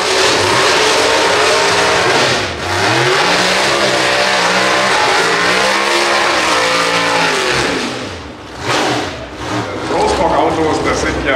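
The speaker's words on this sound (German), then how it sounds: "Simon Gustafsson mit einem Hole-Shot-Start." Pro Stock drag racing cars launching and accelerating at a NitrOlympX event, a loud roaring engine climbing through the gears close by, with an announcer speaking over it.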